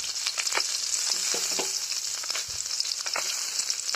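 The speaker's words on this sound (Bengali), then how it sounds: "তেলের মধ্যে এই ঝালগুলো সুন্দর মতো দিয়ে দেবো, তাহলে কিন্তু এই মরিচগুলো দ্রুত ভাজা হয়ে যাবে" Dried red chillies fry in hot oil beside pieces of hilsa fish in the pan, giving a steady close sizzle and crackle with faint stirring clicks and no voices.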